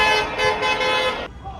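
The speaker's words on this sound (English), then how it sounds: "there's a lot of cars beeping" Several car horns blare together on a Lisbon street after a football match, loud sustained honking close by for over a second before cutting off abruptly.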